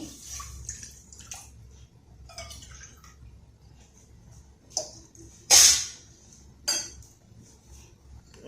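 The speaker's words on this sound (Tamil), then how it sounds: "1 கப்பு மாவு போட்டிருக்கோம், அதுக்கு 3 கப்பு தண்ணி ஊற்றிக்கிடுவோம்." Water going into a wide pot of flour for Vinayagar Chaturthi paal kozhukattai comes in a few short splashing bursts, separated by quiet gaps and light metallic clinks of the pot and utensils. The loudest splash falls near the middle.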